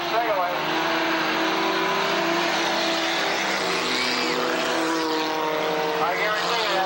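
Race cars roar around the dirt oval at Tonopah Speedway, engines droning loud and steady with shifting pitch as they power through the turns, a commentator talking over the din.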